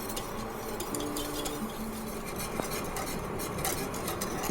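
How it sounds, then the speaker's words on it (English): A mungbean starch mixture is stirred in a pot, giving soft, continuous scraping and occasional light clinks of a utensil against the pot, fairly quiet and close. "Now we just continue stirring it."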